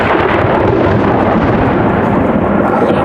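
Loud, sustained rolling thunder in a storm shortly after lightning, a deep continuous rumble filling the air near a country home place in Van Lear, Kentucky, with no voices.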